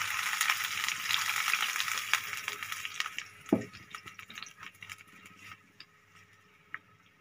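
Water from a glass hits a hot pan of lightly browned onions, with loud sizzling and frying that fades to softer bubbling, plus a stir or clink and scattered small pops.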